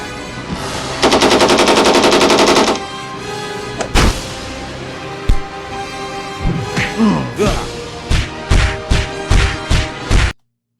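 Loud sound-effect gunfire in a Lego Batman stop-motion scene: a long rattling machine-gun burst, then scattered single booming shots and a rapid cluster of blasts before it cuts off into silence.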